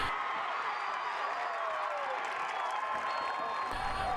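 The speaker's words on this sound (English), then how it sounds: "The crowd is fired up" High school football crowd in a stadium cheers with a steady, distant roar of applause and voices that holds evenly throughout at moderate volume.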